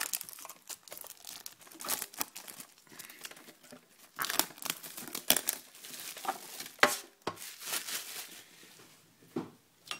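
Close-up crinkling and tearing of cardboard box packaging of a Pokémon card box, with irregular rustles, rips and crunches as it is opened by hand.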